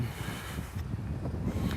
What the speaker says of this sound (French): il y a du vent. J'espère que ça va pas trop déranger le son.